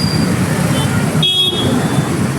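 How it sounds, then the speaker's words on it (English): Dense roadway traffic in Udaipur rumbles continuously up close, with a short sharp car horn toot cutting through partway and faint higher beeps around it. "Heavy traffic in Udaipur."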